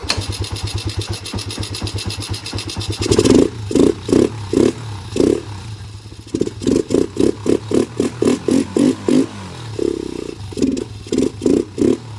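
A Honda CB125 motorcycle engine, its air filter being replaced, restarts with a quick burst of clatter, then idles nearby. Repeated short throttle blips rise and fall in an even rhythm, loud and close.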